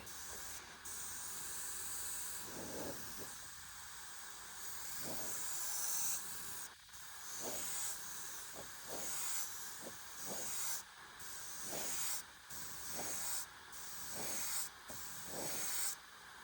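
A NEOECO airbrush sprays in repeated bursts, a steady close hiss of air with short pauses between passes, running alone without talk.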